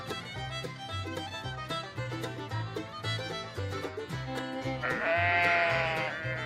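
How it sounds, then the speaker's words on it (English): A sheep bleats repeatedly over a bright, rhythmic music track, the animal's cry rising clearly near the end and held for about a second. "Sheep."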